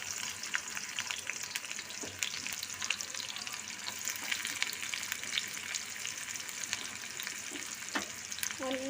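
Onions sizzle and fry steadily in a pan for Maggi noodles, a dense continuous crackle with occasional utensil scrapes and clicks, close and moderately loud, with no talking.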